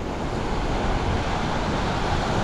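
Waves break on Thung Wua Laen beach in Chumphon, Thailand: a steady, loud wash of surf noise mixed with wind buffeting the microphone, continuous and without pauses.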